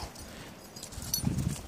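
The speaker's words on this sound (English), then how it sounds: "Miniature horse." Miniature horse hooves clip-clop in a short, uneven run of nearby steps that grows louder toward the end, with no talk over it.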